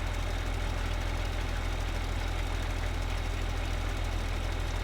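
A tractor engine idling in Farming Simulator 2013, a steady low mechanical drone with a constant throbbing pulse throughout, no talking.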